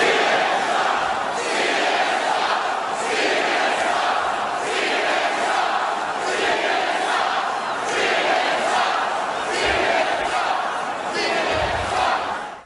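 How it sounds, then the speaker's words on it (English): Large crowd at a Trump rally chanting in unison, a loud rhythmic roar of many voices rising and falling in regular phrases, sustained throughout without a break. "crowds at the Trump rally, like we saw last night, hey, Don, hey, Jeff Zucker, they were chanting at you"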